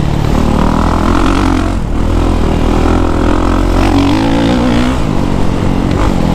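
A 2023 Kawasaki KX450SR motocross bike roars loud and close while riding, its engine revving steadily with throttle surges and rising, falling pitch throughout.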